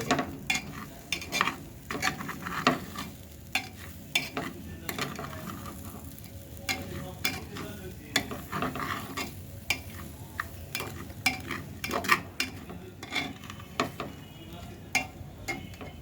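Pulao rice and chaat masala frying and being stirred in a pan, with a steady soft sizzle and repeated scraping, clinking stirs over about sixteen seconds, without voices.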